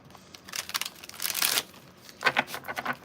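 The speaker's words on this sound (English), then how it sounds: "Last shuffle." A deck of tarot cards is shuffled by hand in short, crisp bursts of riffling and flicking, close and fairly quiet, with no speech.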